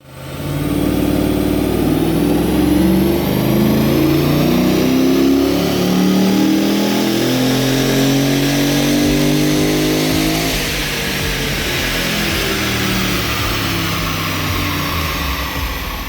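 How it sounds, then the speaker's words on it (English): An LS3 V8 in a VF Commodore roars close and loud on a dyno, climbing through rising revs for a long sustained pull, then easing slightly near the end. "which we will then check with a run on our dyno."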